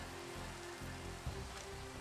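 Steady rain pattering on surfaces in Minecraft, a continuous soft hiss of falling drops at low volume with no voices.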